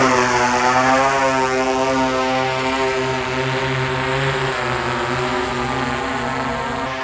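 DJI Matrice 200 drone with TB55 batteries flying in rain, a steady loud propeller hum with stacked tonal harmonics that stays constant, holding nearby without a break and with no voices.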